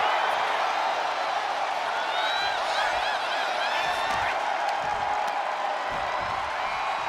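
Virtual arena crowd in the wrestling game WWE 2K25 during a tag-team title match, roaring and whooping in a dense, steady wash. Whistle-like cheers ride on top of the noise.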